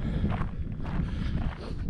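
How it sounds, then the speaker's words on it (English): Wind blows across the microphone outdoors on a sunny day in the Kent countryside, giving a steady low rumble with gusty buffeting throughout. The sound is close and fairly loud, and there is no talking. "It's a beautiful day, but it's a bit windy"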